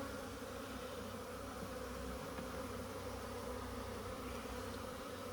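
Honeybees at an open hive in an Alaska apiary give off a steady, dense, close buzz, agitated after a queen check, holding an even level throughout with no voices.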